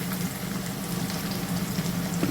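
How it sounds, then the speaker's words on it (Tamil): Greens cooking in an open pan after red chillies go in, a steady close sizzle with a faint bubbling hiss throughout and no voices. "நல்லா வதங்கட்டும்"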